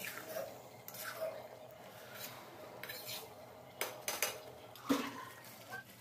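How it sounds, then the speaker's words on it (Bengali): Marinated mutton stirred in a wok as it heats, producing soft scraping and occasional metallic clinks of the spoon against the pan, quiet overall with a few sharper knocks near the end. "তো আস্তে আস্তে গরম হচ্ছে আর আমি নাড়তে থাকবো।"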